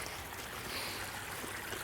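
A small creek flows on public land outdoors, making a continuous soft, washing burble of moving water with no talk.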